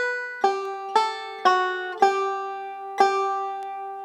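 Banjo playing the second ending of the A part of "Turkey in the Straw": six bright plucked notes in steady rhythm, each ringing with clear harmonics before the next, close and solo with no voices.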